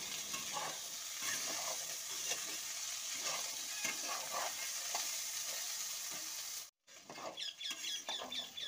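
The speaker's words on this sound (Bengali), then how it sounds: "দিয়ে আলু এবং মটরশুঁটিটাকে ভেজে নেব" Potatoes and peas sizzle in a pan with scraping stirs and clinks, a steady close fry broken by a brief cut near the end.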